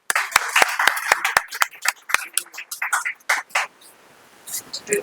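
An audience at a ceremony claps: a run of sharp, distinct claps opens, then thins into scattered, irregular clapping with a voice speaking through it.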